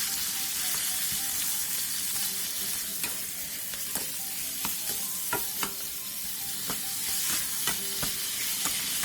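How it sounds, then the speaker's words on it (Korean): Pork shoulder with a spoonful of sugar sizzles and fries in an oiled pan over high heat, a continuous hiss with scattered clicks and scrapes of stirring, close up and with no voices. "팬에 기름을 두른 뒤 앞다리살 한 근과 설탕 한 스푼을 넣고 센 불에서 볶아주세요"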